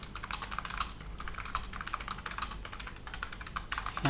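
Someone types on a computer keyboard, producing a steady, rapid run of soft clicking keystrokes close by for about four seconds, with no talk.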